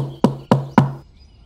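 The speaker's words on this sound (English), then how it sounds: "Suddenly, there was another knock at the door." Three firm, evenly spaced knocks land on a wooden door at close range, each one sharp and resonant, followed by silence.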